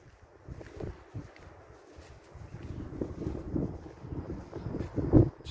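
Strong wind buffets the microphone on a high hilltop along a walking trail, a low rumbling roar that grows gustier and louder toward the end.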